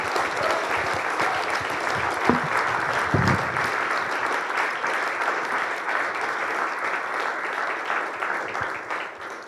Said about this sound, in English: I want to give one more huge round of applause to this amazing and inspirational